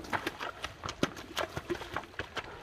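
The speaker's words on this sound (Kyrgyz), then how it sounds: "Ат экен." A stout horse's hooves clip-clop in an uneven walking rhythm, fairly quiet and close, with a faint murmur of voices in the background.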